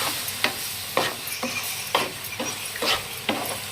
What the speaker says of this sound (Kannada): ಈ ತರ ಒಂದ್ ಸ್ವಲ್ಪ ಹಾಲು ಹಾಕೊಂತ ಚಲೋತ್ನಾಗೆ ಹುರ್ಕೊಳ್ಳೋಣ್ರಿ